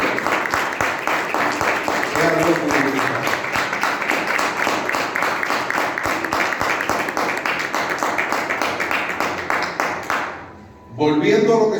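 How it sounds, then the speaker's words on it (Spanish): A church congregation claps steadily and fairly loudly for about ten seconds during a preaching service, then the applause cuts off and a voice begins speaking. "Denle un aplauso al Señor"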